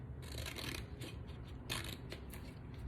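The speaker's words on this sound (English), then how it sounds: "it's just kind of difficult to cut through the confetti" Scissors snip through paper scattered with confetti, a series of crisp rustling cuts in uneven bursts, close and fairly quiet.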